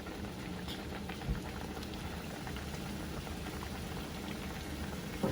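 Oil sizzles and crackles steadily as green plantain fries, with a couple of small pops and no talking.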